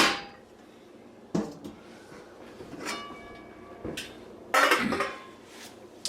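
A cooking pot of boiled eggs is lifted off the stove, giving several sharp metallic clanks and knocks spread across a few seconds, with quieter kitchen handling noise in between.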